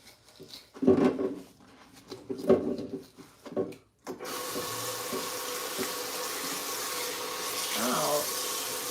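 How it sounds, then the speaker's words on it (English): Tap water runs in a steady, continuous stream while a soaked sourdough container lid is washed in a sink; a voice talks briefly at the start before the even splashing takes over. "I'm gonna wash the lid for my sourdough."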